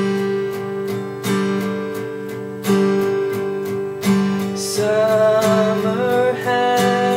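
Acoustic guitar downstrokes ring out in a slow, even rhythm, each strum a loud close chord playing the Green Day song Wake Me Up When September Ends, with no voice.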